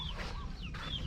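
Several chickens cluck and chatter in short, rising calls, fairly close, against a low steady background hum.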